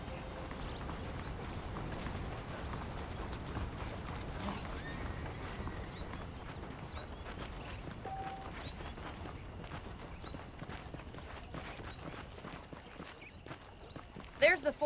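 Saddled horses walking in the western video game Red Dead Redemption, steady rhythmic hoof clip-clop on a dirt town street, close and continuous under ambient game sound, with a sharper knock near the end.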